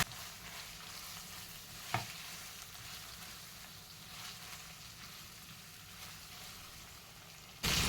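Taro root (arbi) and chopped green chilies frying in a pan: a quiet, even sizzle throughout with faint rain-like crackle and one sharp knock early on, ending in a sudden louder burst.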